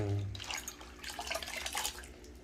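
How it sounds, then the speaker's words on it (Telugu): Broad beans are washed in water, with soft, close splashing and running-water sounds for a couple of seconds. "ఇదంతా బాగా కడగాలి, ఇంకోసారి కూడా కడగాలండి."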